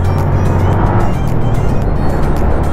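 Dense road traffic around a moving motorcycle at midday, a steady loud rumble of engines with passing vehicles and wind buffeting throughout.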